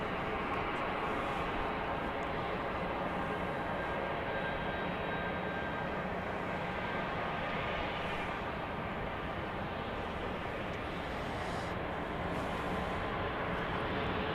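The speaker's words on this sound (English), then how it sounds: "Here comes a flight to Salt Lake City, flight 2335, 737-700." A Boeing 737-700 passenger jet at Dallas Love Field at night makes a steady, loud, continuous engine roar with a broadband rush that holds without a break.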